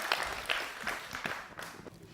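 Audience at a public forum in Dixinn applauding, with scattered, moderately faint clapping bursts rising and easing over a couple of seconds.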